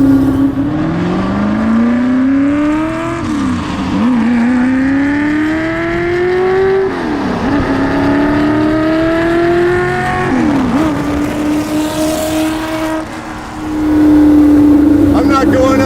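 A Shelby GT350 V8 revs repeatedly while driving through canyon roads, its engine note climbing through the gears in rising sweeps with brief dips at each shift, loud and close, with people talking over it.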